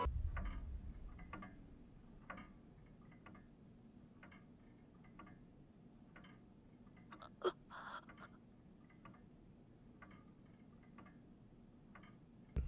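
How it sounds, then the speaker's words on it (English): A wall clock ticks steadily and faintly through a quiet anime scene, an even tick-tock pulse under low room tone, broken once by a brief louder sound near the middle. "The sound of a wall clock that is also constantly present in the entire scene adds just to the depths of the setting"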